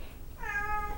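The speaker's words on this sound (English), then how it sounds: "That's my cat in the background, and she is just going to talk all the way through this video." A cat meows once in the background, a short, faint, rising tonal call that starts about halfway in over quiet room noise.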